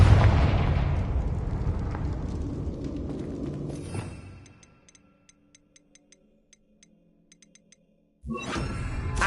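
A Confringo fire spell explodes in Hogwarts Legacy, a loud rumbling blast that decays over about four seconds, followed by near silence with faint regular ticks before another loud burst of noise starts up.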